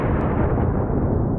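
A loud, sustained blast-like roar of noise fills the moment a shot strikes a target's head, dense and broad with no talking over it.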